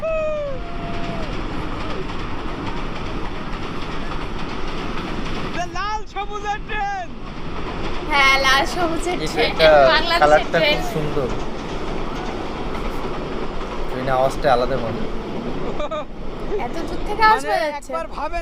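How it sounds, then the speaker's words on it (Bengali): An express train rushes past over the Chalan Beel wetlands in Natore, with a steady rumble and faint rail clatter running beneath close, lively conversation throughout. "জায়গায় উপরে ঝকঝকাঝক শব্দে ছুটে যাচ্ছে ট্রেন"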